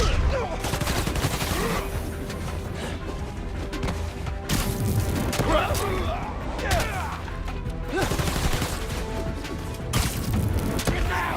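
Gunfire in the Spider-Man: Miles Morales video game, loud bursts of shots and crashing impacts layered over busy combat noise throughout, with voices shouting amid the fight.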